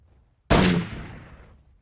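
A single loud gunshot rings out in the video game Jurassic Park: Trespasser, a sharp close blast after a moment of near silence, trailing off in a long decaying echo.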